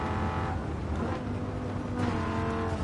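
Dodge Viper race car engine in Gran Turismo 7, a steady loud drone with shifting pitch and faint tire noise, continuous throughout with no talk.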